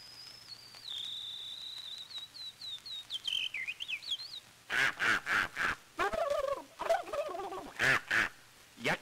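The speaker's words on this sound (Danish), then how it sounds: "Det er kalkunen og anden, der protesterer mod alt den snak." Turkey gobbles and duck quacks performed for a 1934 Danish radio play, first a thin whistled line, then loud bursts of rapid gobbling and quacking in quick succession, close and alone without talk.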